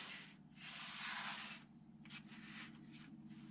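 Rotary cutter trimming the edges of a quilt block on a cutting mat, giving soft, close rasping strokes of fabric being sliced, one longer pass followed by a few shorter ones in a quiet room.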